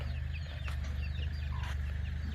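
Chickens clucking faintly over a steady low hum, with a few scattered short calls.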